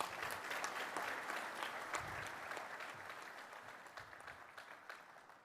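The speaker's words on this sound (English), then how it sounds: "Please give Ramsey just one more round of applause" Audience at a military forces symposium giving a round of applause, a steady crowd of clapping hands filling the room, fairly distant and gradually thinning toward the end.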